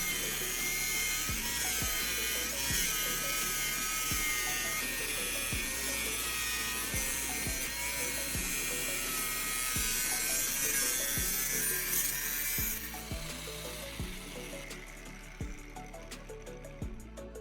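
A handheld angle grinder mounted in a homemade stand cuts through pipe with a loud, steady high whine and regular low thumps. Near the end the whine drops away into quieter rattling as the cut finishes.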